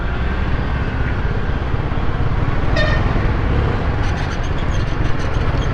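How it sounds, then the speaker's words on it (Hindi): A truck horn honks on a busy Karachi street, a short toot and then a few clipped beeps rising above a constant loud wash of traffic and engine rumble. "अरे कौन है ये खड़े हुए ट्रक पे हॉर्न दे रहे हैं।"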